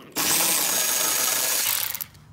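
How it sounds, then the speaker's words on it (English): An electric ratchet spins out a 7mm bolt behind the grille of a 2014–2018 Chevy/GMC truck, giving a loud, steady, close buzzing whir for about two seconds before cutting off. "You can all do these with a ratchet. It's just these electronic ratchets are a lot quicker."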